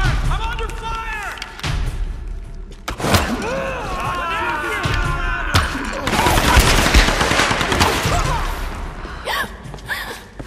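Gunfire in Tomb Raider Definitive Edition comes as bursts of rapid shots amid chaotic game action, with voices shouting and gasping over the loud firing.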